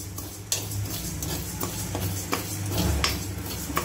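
Cumin and fenugreek seeds dry-roasted in a pan, stirred with soft scraping and occasional light clinks of a spoon over a faint, steady background rustle.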